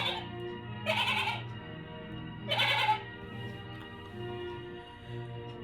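A sheep bleats twice, in loud, wavering calls spaced about a second and a half apart, over a quiet humming background.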